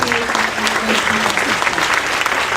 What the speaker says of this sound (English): can we just give a round of applause for all of our kids